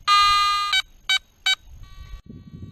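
A Garrett ATX metal detector beeps after a frequency scan: one long steady tone, then three short quick beeps, and a fainter tone, over a low background hum.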